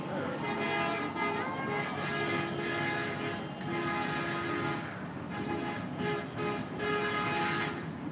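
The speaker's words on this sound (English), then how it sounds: "You need someone to honk for." Horns honk repeatedly through loud, continuous street noise at a cold outdoor protest in Ottawa. The toots are held and overlap one another over a steady crowd and traffic roar.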